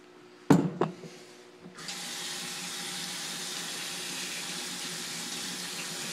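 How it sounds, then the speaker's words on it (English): Fire clay pebbles for hydroponics are washed under a kitchen sink tap: a couple of sharp clatters come first, then the water starts and runs as a steady, even hiss to the end. "We're gonna wash these off real quick."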